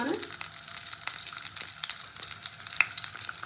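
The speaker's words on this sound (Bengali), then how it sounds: "এই আলুটাকে ভালো করে ভেজে নেবো।" Potato pieces dusted with a little turmeric frying in hot oil for a fish curry, a steady bright crackling sizzle with occasional utensil taps, close and continuous.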